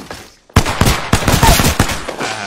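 Rapid bursts of automatic gunfire from the video game Apex Legends, a dense loud volley starting abruptly after a quiet moment and continuing in repeated cracks.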